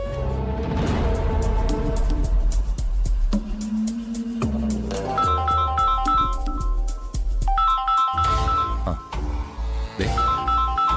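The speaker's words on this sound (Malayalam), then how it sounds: "അരുന്ധതിയാ, ഫോൺ എടുക്ക്." A phone ringtone plays loudly, a bright electronic melody with repeating tonal phrases that carry on for several seconds.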